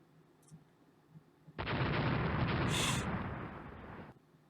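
Naval gunfire from 5-inch guns in Rule the Waves, a sudden loud roaring burst of sustained rumbling fire lasting about two and a half seconds before cutting off abruptly.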